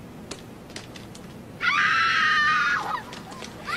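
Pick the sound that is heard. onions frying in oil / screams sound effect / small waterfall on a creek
screams sound effect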